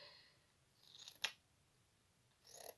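Scissors cut a cardboard box in a very quiet room, giving two brief crisp snips separated by near silence, each with a faint slicing rustle before it.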